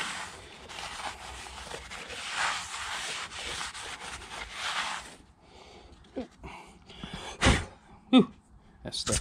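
Brisk rubbing of a rag wiping grease off a trailer wheel bearing part, a steady scrubbing for about five seconds followed by a few short, separate wipes and handling noises.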